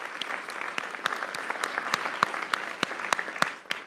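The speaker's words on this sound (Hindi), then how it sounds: "तालियां" Steady applause from a crowd celebrating India's T20 World Cup 2026 final win over New Zealand, with dense continuous clapping and sharper individual claps standing out throughout.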